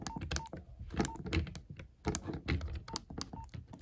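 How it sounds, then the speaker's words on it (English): A mobile phone's navigation buttons are pressed in quick, irregular succession, each press giving a short electronic tone, heard close and mixed with clicking handling noise over a little more than three seconds. "it's just funny when you press the navigation buttons, it makes these sounds"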